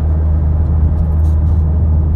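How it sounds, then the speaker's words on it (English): Steady low exhaust drone from a car cruising on the interstate around 2300 RPM, a constant rumbling hum inside the cabin with no speech. "So this car, it drones the worst on the interstate"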